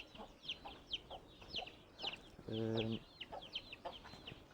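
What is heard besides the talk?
chickens clucking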